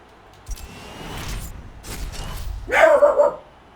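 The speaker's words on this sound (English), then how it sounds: "That dog today." A dog gives a short bark or yelp close by near the end, after soft mechanical background noise.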